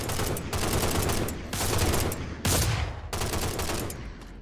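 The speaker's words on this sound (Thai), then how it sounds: "ผมโดนแอดมินยิงผม แอดมินยิงผม" Rapid gunfire in a Minecraft survival server plays in several bursts of dense, crackling shots separated by brief gaps, loud and continuous, with no speech over it.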